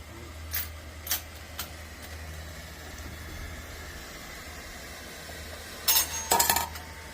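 Annealed brass cartridge cases dropping one at a time into a metal pot, a few sharp metallic clinks early on and then a quick cluster of ringing clatters near the end, over a faint steady hiss from a torch.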